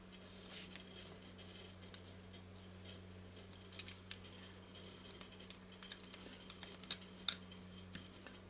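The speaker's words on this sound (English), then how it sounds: "And just score down with the craft knife." A craft knife scores along a metal ruler to cut around a Vivitar 283 flash unit, producing faint, scattered scratchy ticks and light clicks against a steady low electrical hum, close by, with no talking.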